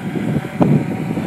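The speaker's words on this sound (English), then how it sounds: "Getting a little windy out there." Wind buffets the microphone with a continuous low rumble and a brief stronger gust.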